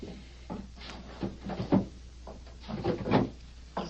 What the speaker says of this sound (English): Betty, look in that chest over there and bring me the small cardboard box that's in the top drawer